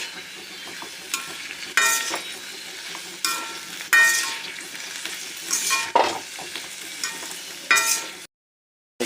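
Broad beans tossed in hot oil with mustard seeds and curry leaves in a pan, giving loud bursts of sizzling and scraping stirs every second or two, close up and without voices, ending in a brief silence.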